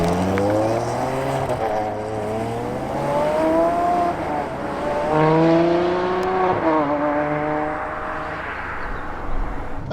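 A Ferrari 599 GTO engine pulls away in manual mode, its loud, close engine note climbing in pitch through repeated rising sweeps as it accelerates and shifts.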